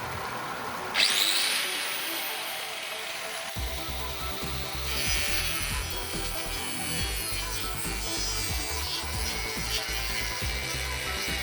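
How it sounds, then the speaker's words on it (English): An angle grinder runs off a 20 kW 110-220V generator. A sharp spin-up is followed by a continuous loud grinding whine over a low engine drone that carries on throughout, with no voices. "the angle grinder"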